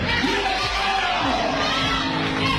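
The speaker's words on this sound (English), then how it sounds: "the crowd was cheering on and screaming for joy" A church congregation cheering and screaming for joy during a live stage event, a dense, steady wall of crowd voices with shouts and whoops throughout.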